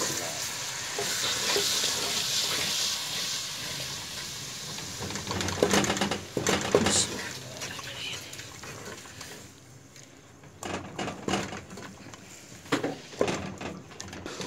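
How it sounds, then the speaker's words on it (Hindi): Masala of tomato and spices sizzles in a pan for a mixed vegetable sabzi while a spoon stirs and scrapes it, steady frying hiss broken by louder clattering bursts of stirring. "इसको तब तक हिलाते रहना जब तक मसाला पक ना जाए।"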